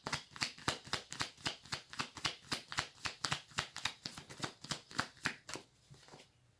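Tarot cards being shuffled by hand, a fast even run of about twenty crisp riffling flicks, close and fairly soft, trailing off at the end.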